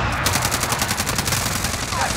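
Rapid gunfire fills a Call of Duty Warzone Resurgence match, with rhythmic automatic bursts running steadily and loudly throughout against dense battle noise.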